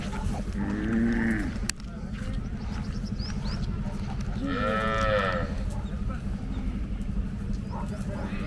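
Cattle at a native cattle market during a temple chariot festival in Kannapuram, lowing in two drawn-out moos a few seconds apart, heard over a steady low hum and background market noise.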